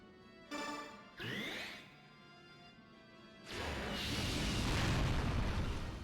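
A meteor spell in Fire Emblem: Path of Radiance opens with two short rising whooshes, then a brief quiet, then a loud explosion that swells into a long, rumbling roar.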